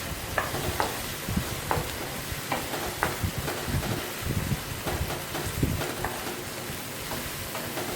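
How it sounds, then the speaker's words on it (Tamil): Egg masala with turmeric, chilli and coriander powders stirred in a hot pan, soft sizzling under intermittent scraping strokes of a spoon repeating irregularly, close and fairly quiet. "இப்போ இதை நல்லா மிக்ஸ் பண்ணி விட்டுக்கலாம்."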